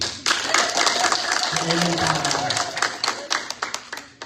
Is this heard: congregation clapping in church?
yes